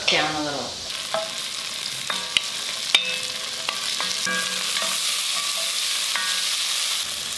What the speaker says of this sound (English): And then I'm going to saute my vegetables in this hot grease.